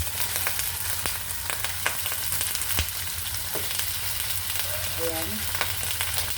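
Chicken for adobo fries in a pan with a steady, close sizzle throughout, broken by a few sharp crackles and stirring clatters, and a voice briefly speaks near the end.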